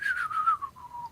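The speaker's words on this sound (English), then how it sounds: "The whistle part in the song sticks in my head" A short whistled melody from a show's intro song glides downward in a clear, close tone, with a few sustained notes and no talking.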